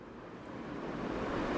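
Rain-fed water spilling over the crest of the Govindgarh dam spillway, a steady broadband rushing roar that slowly builds in loudness, with no voices.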